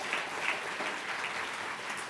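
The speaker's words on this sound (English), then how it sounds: "Round of applause for the Academy's board members." An evening reception audience gives a steady, dense round of applause for an academy's board members, sustained throughout without talk.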